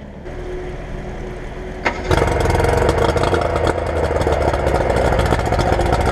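An Avon Searider boat engine runs while being flushed, starting with a sudden loud burst after a quieter opening and then holding a steady, close, rumbling idle with no talk.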